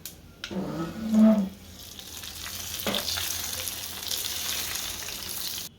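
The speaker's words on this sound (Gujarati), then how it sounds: "તલ ગરમ થઈ ગયા. ઉતારી લેશું. આ ઢોકળા ઉપર નાખી દઈશું." Sesame seeds hot from the pan poured over freshly steamed bottle gourd dhokla, a sharp sizzling burst near the start that fades into a soft, steady crackle and hiss close by with no voices.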